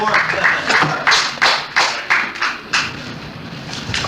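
An audience at a science-fiction convention talk claps in a series of about a dozen rhythmic, evenly spaced bursts, close and fairly loud, like a slow chant-clap.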